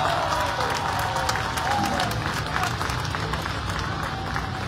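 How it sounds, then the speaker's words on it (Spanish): Steady applause from a crowd fills the clip, dense and continuous, with a voice faintly audible underneath. "Fuerte el aplauso para ella."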